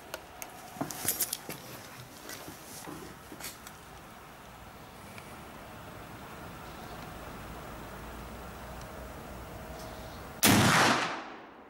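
A Swiss 10.4mm Peabody tipping-block rifle at an outdoor range fires, leaving faint, distant sharp cracks early on; a loud close burst of noise closes the clip.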